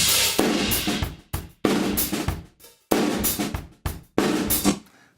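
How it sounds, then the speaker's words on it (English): A drum kit heard through a gated stereo room mic keyed by the toms and top snare mic: loud bursts of roomy hits that cut off abruptly into silence, in several separate chunks with no voices. "So I'll put a gate on that big stereo room and I'll key it with my toms and my top snare mic."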